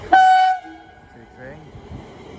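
A London Northwestern Railway train arriving at Watford Junction sounds a loud, brief horn blast up close, followed by low rumbling of the train and faint background noise.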